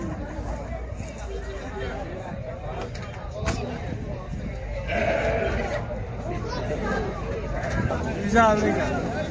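Goats and sheep bleat repeatedly amid a busy market hubbub, with someone talking over the animals and background chatter.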